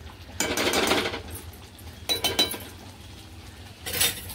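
Spoon stirring butter into thick cashew masala gravy in a metal pan, three separate bursts of scraping and clinking against the pan, close and moderately loud with quiet pauses between.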